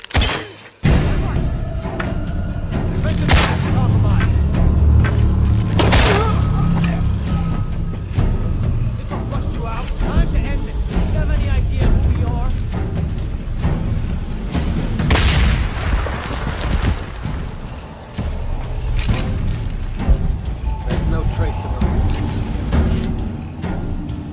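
Gunfire and explosions from a Shadow of the Tomb Raider combat scene, with loud booms and thuds over a constant dense game soundscape, punctuated by sharp impacts, while voices shout under the action.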